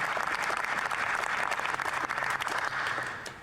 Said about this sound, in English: Oh, now we're clapping. Now we're clapping.